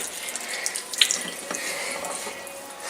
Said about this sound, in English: Friends, I'm washing my hands.